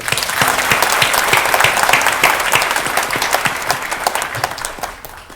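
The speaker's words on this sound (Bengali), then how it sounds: "তাদের জন্য জোরে একটা হাততালি দিয়ে" An audience claps loudly for the winning children at a children's talent event, a dense sustained applause with sharp individual claps, steady throughout and tapering slightly at the end.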